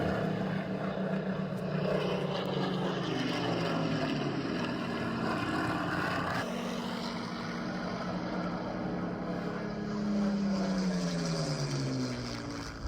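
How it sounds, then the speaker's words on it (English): Droning propeller engines of World War II Spitfire fighter planes flying past, a loud sustained roar whose pitch sweeps down as the aircraft pass, with a second plane following later. "just like those World War II fighter planes that I've just shown"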